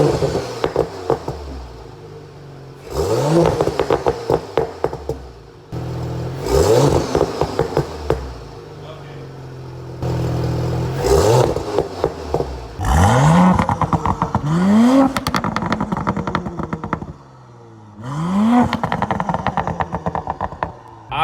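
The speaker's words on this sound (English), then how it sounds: "From the outside, just doing a couple quick revs, it sounds like this." Audi S4/S5 fitted with a catless downpipe exhaust, recorded from outside as the engine revs several times in quick bursts, each rise and fall loud and close with short idle gaps between.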